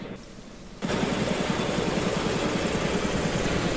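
Steady rain in a video game pattering down after an aircraft lands, a dense, even hiss that starts abruptly and continues loud and unbroken with a faint low rumble beneath.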